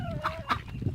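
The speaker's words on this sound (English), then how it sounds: "The chickens love it." Chickens clucking and calling near at hand while they peck at feed, short bright clucks rising over a low, busy background of scratching and movement.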